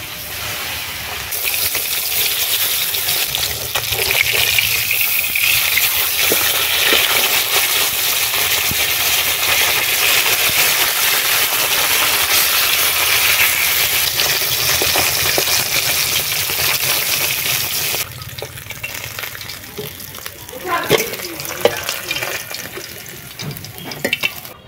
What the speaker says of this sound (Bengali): কই মাছগুলো ভাজবো, কড়াইতে তেল দিয়ে দেবো।